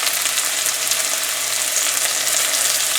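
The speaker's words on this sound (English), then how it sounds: "we have 2 tablespoons of oil heated in this karahi here, and we're gonna get started. First we're gonna add our onion" Chopped onion fries in two tablespoons of hot oil in a karahi, making a loud, dense, steady sizzle that fills the whole stretch with no talking.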